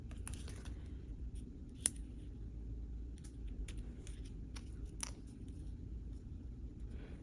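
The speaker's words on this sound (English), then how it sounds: "I'm just going to cut 2 of these sides because I have them." Scissors cut the paper sides of a craft kit with a few sharp, separate snips over a low background rumble, quiet and close, with no talking.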